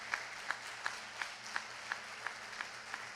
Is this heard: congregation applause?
yes